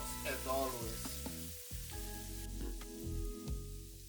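Aromatics such as ginger and garlic sweat in a pan with two bay leaves, crackling in soft, uneven bursts of sizzle close by, with no talking.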